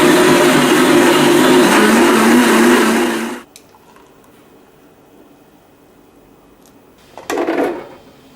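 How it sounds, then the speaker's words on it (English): A blender whirs loudly on high for about three seconds blending a blueberry smoothie, then cuts off abruptly, followed by quiet and a brief clunk near the end. "Just blend on high for about 20 to 30 seconds."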